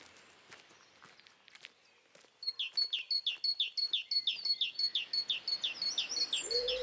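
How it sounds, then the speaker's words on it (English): Along a country lane in Hampshire, a bird sings a rapid, repeated chirping phrase close by and clear, following a few seconds of soft footsteps and rustling outdoors. "This pretty lane, full of birdsong"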